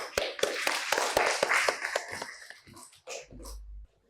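A high school classroom in Bogor breaks into quick, sharp handclaps from a handful of students, close and uneven, thinning out and stopping after a few seconds.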